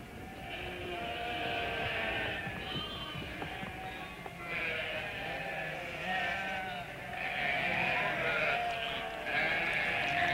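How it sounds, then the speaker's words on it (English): A flock of sheep and goats, driven by herders to a drinking stall at a well in the Karakum Desert, bleat in overlapping calls throughout, a dense, continuous chorus close by. "A flock of sheep and goats, driven by chobans, were competing with one another to reach a drinking stall."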